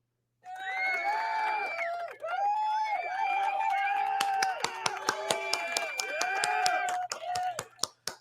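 Hands clap in a quick, sharp series during the second half, sounding close and fairly loud over a continuous, droning voice that carries on throughout.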